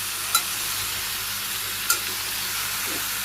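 Papaya vegetables sauté with salt, turmeric and dry chili powder, making a dense, constant sizzle. Two brief scraping ticks come from the spatula stirring the pan.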